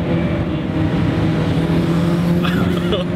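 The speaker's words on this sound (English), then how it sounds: "Right when you hear that turbo spool up, it's just, you know, things are about to start getting real." A 2006 Mitsubishi Evo IX GSR under way, its engine droning loud and close with a steady rising whine as the turbo spools, road and tire noise underneath and a faint chirp near the end.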